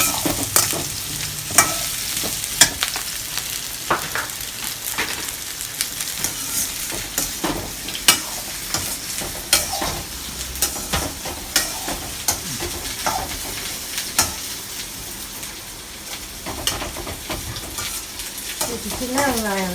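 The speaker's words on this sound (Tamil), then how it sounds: "உருளைக்கிழங்கு, கேரட் எல்லாத்தையும் ஒரு பெரட்டு வதக்கி 3வது பால் நம்ம பொரிச்சிருக்க தேவையான அளவு உள்ள 3வது பாலில் அதை வதக்கி போட்டுடணும்." Potatoes and carrots sauté and sizzle in coconut milk for Tirunelveli sodhi, with steady frying hiss and repeated scraping stirs of a spoon against the pan throughout.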